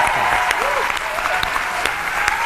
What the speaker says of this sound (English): please join me in giving the warmest round of applause for Andrew Lloyd Webber